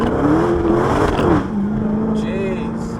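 A Dodge Challenger Hellcat with a 707 bhp engine accelerates on the road, its rising engine note heard from inside the car with the window down, loud and close, then settling into a steadier drone.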